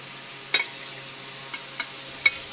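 Meat cooks in a pan while being stirred, with a soft constant sizzle and a few distinct scrapes and clinks of a utensil against the pan at scattered moments, fairly quiet overall.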